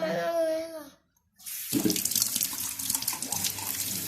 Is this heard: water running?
yes